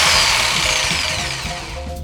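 A jigsaw fitted with a metal-cutting blade cuts through aluminium, a loud, close, high-pitched rasping whine that sustains for about two seconds and tapers slightly at the end.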